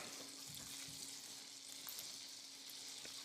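Olive oil with a little butter sizzles steadily in a pan on a kitchen stove, a continuous soft crackling hiss heard close with no talking.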